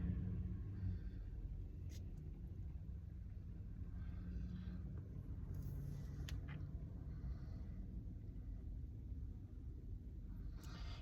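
A big truck parks nearby in the woods, its engine giving a low, steady rumble that holds throughout at a fairly quiet level, with no talking.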